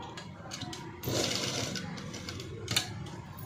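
A sewing machine stitches a sleeveless cut-work padded blouse, with a rapid mechanical whirring run that starts after a short pause and continues steadily, close and moderately loud.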